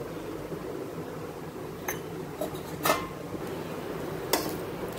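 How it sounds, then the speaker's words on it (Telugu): Ghee being added and vegetable brown rice with beans, carrot, green chili and potato being stirred in a pan, with a steady background hum and a few sharp scattered clinks of a spoon against the metal pan. "కొంచెం నెయ్యి వేస్తున్నాను మిక్స్ చేయడానికి।"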